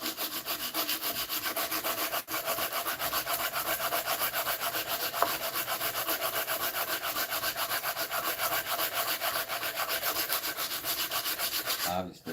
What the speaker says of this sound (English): I am going to use the sandpaper on this one.